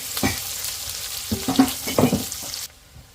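Sliced onions and curry leaves sauté in a pan with a close, crackling sizzle, punctuated by several scraping stirs before the sound cuts off abruptly near the end.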